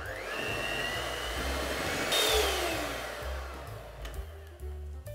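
An electric hand mixer whirs while beating thick cream cheese frosting for a red velvet cake, a steady motor hum with a brief louder surge midway before it winds down, heard close and alone.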